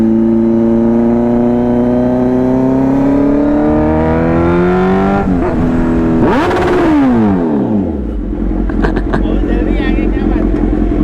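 Kawasaki Z900 superbike engine revs loudly and close during a wheelie, climbing in pitch, stepping through gear shifts, then dropping sharply to a rough idle with clattering, with no talk over it.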